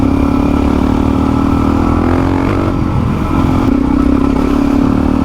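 Suzuki DRZ400E dirt bike riding along a cliffside bridle track, its single-cylinder engine giving a steady, close, droning thrum with slight rises and dips in revs, without talk.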